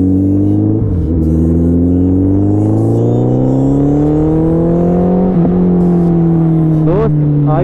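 A Suzuki Hayabusa motorcycle rides along, its engine droning loudly and close with a pitch that climbs through the gears, dipping at brief shifts, over constant wind buffeting.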